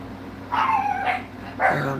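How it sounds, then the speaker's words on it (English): Small dogs barking indoors, two or three sharp, high yaps with a short whine between them, heard close and loud over a low background hum. "There go my dogs, my little ankle biters."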